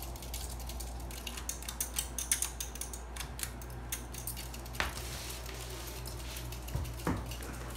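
Hampton Bay St. Claire 52-inch ceiling fan with oak blades running on high, a low steady hum with faint ticking and clicking mechanical noises over it, quiet and continuous.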